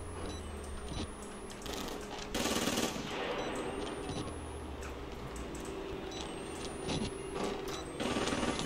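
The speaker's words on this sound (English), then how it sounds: "Oh my god, not them shooting." Gunfire in the horror game Outlast Whistleblower sounds as a steady rattle of rapid shots over a dense, rumbling background, with a few louder bursts and no talking.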